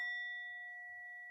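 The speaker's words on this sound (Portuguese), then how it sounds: "Era o som de um sino" A single faint, clear bell tone rings out and slowly decays, a pure sustained ding heard alone against silence.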